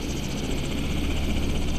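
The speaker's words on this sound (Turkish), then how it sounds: "Helikopter de uçuşa hazır vaziyette." A helicopter readied for flight beside a lakeside stadium in Gölbaşı, with a loud, steady engine and rotor roar that stays constant throughout.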